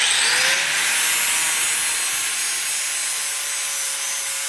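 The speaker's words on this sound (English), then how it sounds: "Now we grinded down two flat spots." A steady, harsh grinding hiss comes from flat spots being ground onto a shock absorber part from a 1981 Mazda RX-7. It is close and continuous throughout, with no talking.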